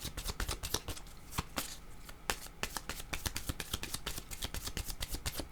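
Tarot cards are shuffled and drawn close up, a quick run of crisp riffling snaps and flicks with brief pauses between bursts, quiet and without speech.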